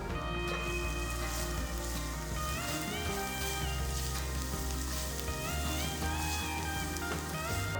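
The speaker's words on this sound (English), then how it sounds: "Once the oil is heated, add about 6 to 7 cloves of garlic finely chopped." Finely chopped garlic cloves sizzle in hot oil in a white kadai, a steady, dense frying hiss that fills the whole stretch without a break and without any talk.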